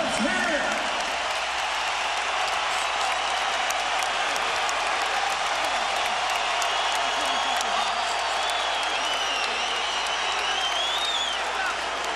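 A boxing crowd at the Chris John vs Rocky Juarez fight rises to its feet at the bell, a loud, dense, unbroken roar of cheering and shouting that holds steady from start to finish.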